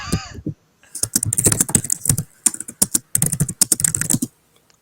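Rapid typing on a computer keyboard, loud and close, in dense bursts of clicking keystrokes separated by short pauses, with a brief voice at the very start.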